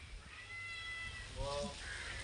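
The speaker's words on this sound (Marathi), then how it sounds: "मांजर लगेच आले बघा" A cat gives a couple of soft, rising meows close by, over faint background hiss.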